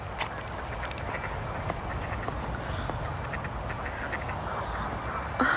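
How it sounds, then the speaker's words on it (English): A large flock of ducks quacking at a busy waterside spot during birdwatching, a dense, steady chorus of overlapping calls with scattered louder quacks throughout. "there's so many ducks here."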